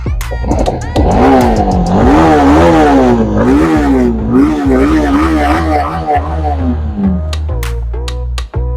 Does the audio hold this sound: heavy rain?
no